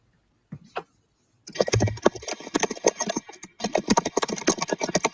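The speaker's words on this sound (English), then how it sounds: "I hear rapid typing from somebody" Rapid typing on a keyboard during an online video call, quick bursts of sharp clicks close to the mic, pausing briefly before continuing.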